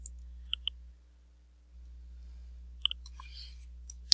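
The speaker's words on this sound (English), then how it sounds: "I'm going to go to the search bar and I'm going to type in MailerLite." Mouse clicks and keyboard typing into a plugin search bar, with a couple of sharp double clicks and a brief burst of key taps against a quiet background hum, close and faint.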